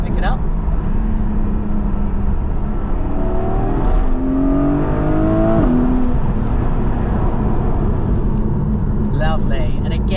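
A Porsche 718 GTS 4.0 with its engine warmed up revs and pulls loudly from inside the cabin, rising and falling engine tones sweeping upward over a constant roar, with a brief window or wind noise near the end.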